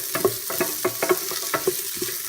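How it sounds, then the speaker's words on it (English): Chopped onions sautéing in a hot pan with ginger-garlic to follow, a close sizzle broken by regular spoon scrapes and stirring taps about twice a second, no talking. "Saute them slightly."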